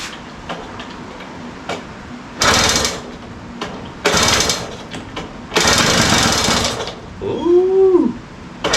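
A restored vintage kids' ATV engine tries to catch on freshly connected fuel, coughing to life in short loud sputtering bursts amid faint ticking, followed by a person's brief exclamation.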